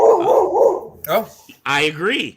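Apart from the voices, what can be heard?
dog barking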